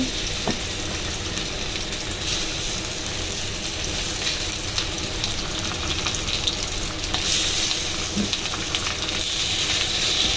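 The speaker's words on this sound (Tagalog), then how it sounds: "Fry natin yung chicken. Saute lang natin yung chicken." Chicken pieces for teriyaki sauté in a hot pan, giving a steady, dense, close sizzle that holds constant throughout, with a few faint clicks of stirring and no talking.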